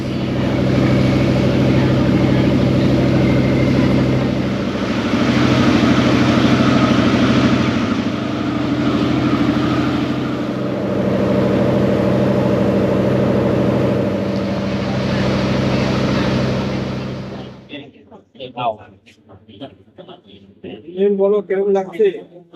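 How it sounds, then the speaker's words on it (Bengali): A motorboat engine roars steadily as the boat pulls away from the pier at Pattaya toward Coral Island (Koh Larn), loud and close with a heavy low drone, then cutting off abruptly to quiet voices talking. "সাতটাতেই বোট ছেড়ে দিল"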